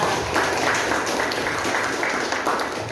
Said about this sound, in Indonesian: tepuk tangan buat Laila